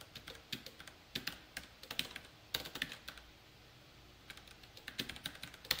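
Rapid clicking keystrokes on a computer keyboard as someone types Java code, coming in quick bursts with short pauses, close and fairly quiet with no talking.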